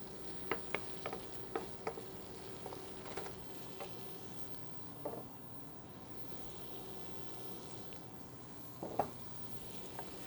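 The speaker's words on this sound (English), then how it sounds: "we're going to sweat our onions here for a few minutes" Chopped onions sweat gently in a pan for stuffed mini pumpkins, making a low, quiet sizzle broken by a few sharp clicks and taps of a utensil.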